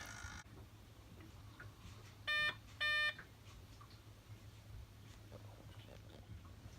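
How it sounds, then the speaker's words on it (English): Two short electronic beeps sound in quick succession from a Volvo Penta D1-30 boat engine control panel during starting, over a low engine hum and faint background noise. "It takes about 20 seconds and then there's a beep."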